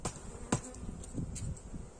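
Honeybees buzz at an open hive during a spring inspection, a soft, steady drone with a few louder bees passing close by.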